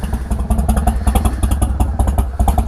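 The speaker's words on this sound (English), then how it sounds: "you have arguably the best exhaust sound at idle that Harley-Davidson makes" A Harley-Davidson Low Rider S idles close by, its exhaust thumping out a loud, lumpy, uneven rhythm of rapid pulses that runs steadily throughout, with no voices over it.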